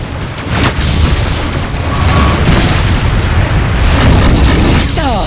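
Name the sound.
missile explosions in video game Rebel Galaxy Outlaw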